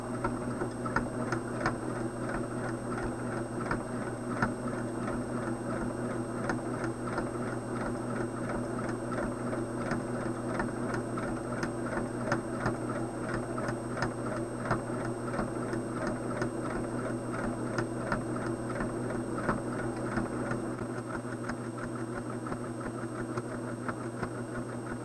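A sewing machine runs steadily around an applique quilt block at 3.5 stitch width and 1.0 stitch length, a constant fast mechanical whir with rapid ticking stitches, close and continuous for the whole span with no talk.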